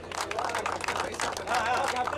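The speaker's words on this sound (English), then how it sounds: "MFC Kuwait, please give me a round of applause, guys" Applause for MFC Kuwait at a cricket tournament grand finale award ceremony, a steady dense burst of clapping from the crowd that holds for about two seconds at moderate loudness.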